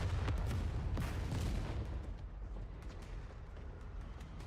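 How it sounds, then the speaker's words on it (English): Explosion in the video game NIKKE: a deep rumbling boom with a burst of crackling impacts at the start, decaying into a lingering low rumble. "An explosion rings out, causing the surroundings to shake"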